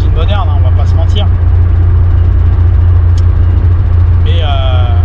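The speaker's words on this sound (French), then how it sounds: "Alors on entend légèrement le moteur, évidemment, on va pas le confort d'une limousine moderne" A 1989 Peugeot 205 1.1 XL three-door is heard from inside the cabin while cruising, its engine giving a constant low drone with road and wind noise and someone speaking over it.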